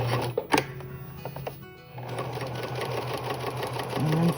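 A sewing machine stitches quilt binding, starting with a few sharp clicks and a brief pause before settling into a steady, fast mechanical hum and chatter, close by and moderately loud.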